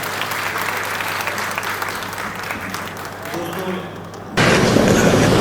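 A mushaira audience in Patna claps loudly to welcome a poet, a dense steady applause that eases slightly before a voice cuts in and begins speaking near the end.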